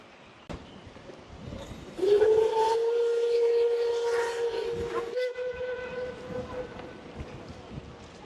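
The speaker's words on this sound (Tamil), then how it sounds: "இது வந்து நீராவியில் ஓடுற கப்பல்." A steam-powered ship sounds a long, loud whistle that holds for several seconds against an outdoor fishing scene, with a sharp knock just before it and a second, slightly different whistle tone toward the end.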